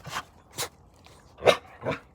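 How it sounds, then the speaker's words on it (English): Dogs playing outdoors by the sea, giving four short, sharp yips and barks spaced irregularly, close and fairly clear against quiet background noise. "It's playtime for the dogs."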